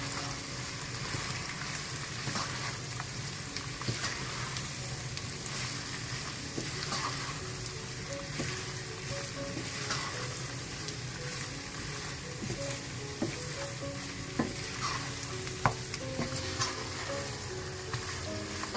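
Cauliflower and meat for gobi gosht are stir-fried in a pan, a long, even sizzle with scattered clinks and scrapes of stirring, nearby and soft, with no voices.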